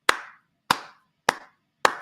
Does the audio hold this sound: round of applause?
yes